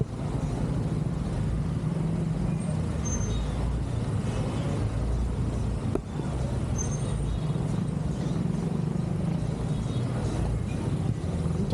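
Street traffic under the LRT in Baclaran rumbles on continuously, a dense steady roar of cars, buses and trucks with occasional brake hisses and faint distant voices.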